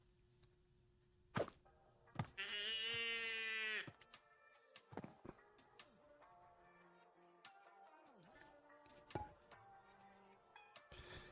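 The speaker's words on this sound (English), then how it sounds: "that goat can stay down there." A goat in the StoneBlock 4 Minecraft modpack bleats once in a clear, wavering cry lasting about a second and a half, set among sparse game clicks, thuds and ticks in an otherwise quiet scene.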